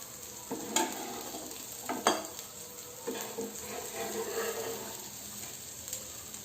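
Rajma tikki frying in a pan, a quiet continuous sizzle broken by scraping stirs and a few clinks of a spatula against metal at irregular moments.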